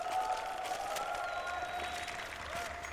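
Audience at the 8th IESF World Championship 2016 final, a sustained wash of applause and crowd noise with faint tonal sounds ringing above it.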